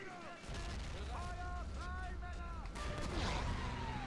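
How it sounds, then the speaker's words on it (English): Mortar fire in the war game Men of War: Assault Squad 2, heavy low booms rumbling under continuous battle noise, with voices talking over the top. "Is that still your mortar going off?"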